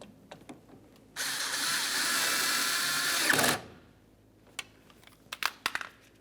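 A power driver whirs steadily for about two seconds, driving the mounting screw into a rear exterior door handle on a 2006–2012 Ford Fusion, followed by a few faint clicks and taps.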